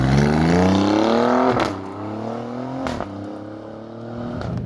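An Alfa Romeo Giulia Quadrifoglio on the move, its engine revving hard with a rising note that drops sharply at a gear change and then climbs again, steady and close throughout.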